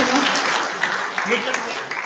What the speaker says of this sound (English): Ladies and gentlemen, the music should be your applause tonight.